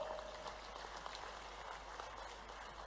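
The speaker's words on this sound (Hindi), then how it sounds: "आप हाथ की ताली तो बजाओ।" Crowd applause at an outdoor political rally in Sonkatch, Dewas, Madhya Pradesh: a dense, steady wash of many hands clapping at a distance for about three seconds, fairly faint and even, with no voices on top.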